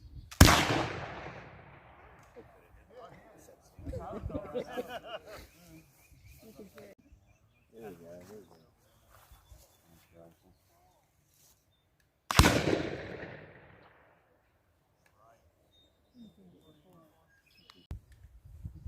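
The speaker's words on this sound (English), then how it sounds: "Massive volley." Massive musket volley at a historical rendezvous reenactment: two huge, sharp blasts about twelve seconds apart, each with a long rolling decay, loud and close, with people talking and some cheering in between.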